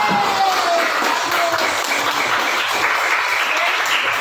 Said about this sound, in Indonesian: Oke, beri tepuk tangan untuk teman kita.